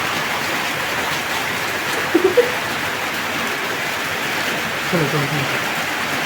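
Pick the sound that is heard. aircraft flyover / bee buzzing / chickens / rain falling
rain falling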